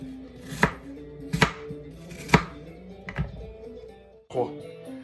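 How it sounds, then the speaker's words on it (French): A knife chops firmly through apples on a board, cutting them into large quarters, four or five distinct cuts at an uneven pace, close up, with faint talk in the background. "il faudra couper les pommes en gros quartiers"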